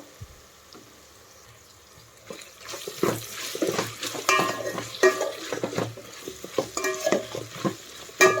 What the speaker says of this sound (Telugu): ఒక 2 మినిట్స్ ఫ్రై చేసుకోవాలండి ఇది కూడా